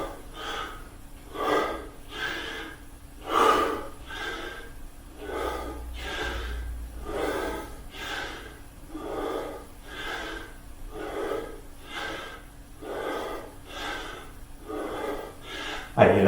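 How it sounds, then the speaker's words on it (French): Heavy, rhythmic breathing from someone doing CrossFit squats in a full-body workout, about a dozen forceful gasping inhales and exhales repeating every second or so, close and alone with no talk. "Pensez à bien souffler. Inspirez en descendant,"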